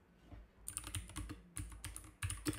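Quick bursts of typing on a computer keyboard, soft clustered clicks in short runs separated by brief pauses, close and fairly quiet with no talking.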